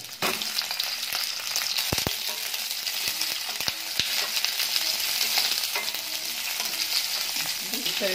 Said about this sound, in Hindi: इस केले को हम लोग अभी फ्राई करेंगे।